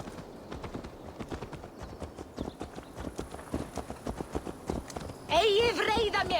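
Horse hooves clip-clop at a steady walking pace in Assassin's Creed Valhalla, close and continuous, with a brief burst of another sound near the end.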